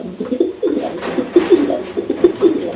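A blue bar Janssen racing pigeon in its loft coos repeatedly in a steady, throaty rhythm, close and loud, with no voices.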